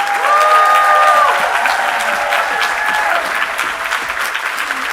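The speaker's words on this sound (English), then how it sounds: "you can keep clapping" Sustained applause from an audience fills the whole stretch, loud and dense at first, then easing slightly while a few voices murmur underneath.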